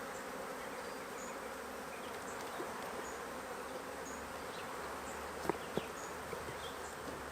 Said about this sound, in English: these bees are pissed